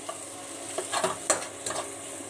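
Dried red chillies frying in hot oil in a pan, alongside green chillies, while cooking watermelon rind: a constant soft sizzle with several scraping stir strokes, close and fairly quiet, with no talking.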